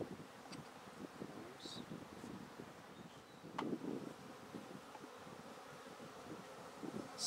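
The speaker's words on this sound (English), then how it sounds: "Now we've got a lot of bees in this box" Bees buzz in and around a hive box, a faint steady drone with a few nearer passing buzzes, occasional rustling and light knocks, no speech.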